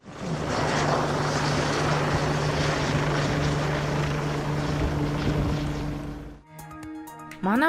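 An emergency medical service helicopter roars loud and steady close by, a dense rotor and engine drone that cuts off abruptly near the end.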